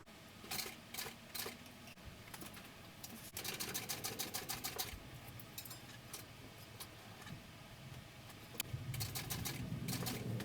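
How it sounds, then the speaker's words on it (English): A sewing machine stitches fabric for a baby sling in several quick, rhythmic bursts of rapid ticking, pausing between runs, close and fairly quiet with no talking. "I'm going to sew that again"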